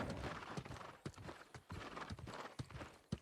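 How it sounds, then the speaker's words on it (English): A horse's hooves clop in a quick, steady rhythm in the New World Aeternum video game, close and continuous, with faint hints of whinnying and no talking. "Boy, this horse is making a whole lot of noise."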